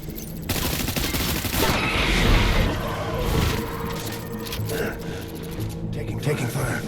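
Sustained video game gunfire rattles on throughout, dense bursts of shots layered with mechanical clatter and explosions, loud and close, with voices calling out over the combat.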